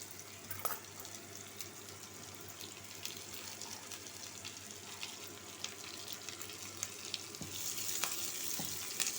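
Onions frying in hot oil with mustard seeds and urad dal in a pan, a steady soft sizzle with occasional clinks of a spoon stirring, fairly quiet and close.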